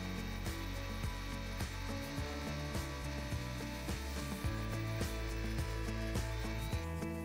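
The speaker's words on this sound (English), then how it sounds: "Step one of the installation is to drill a 6mm hole to a minimum depth of 50mm" An SDS drill bores a 6mm hole to a minimum depth of 50mm while installing a suspended ceiling wire hanger anchor: a steady, dense grinding roar that runs the whole time with no talk.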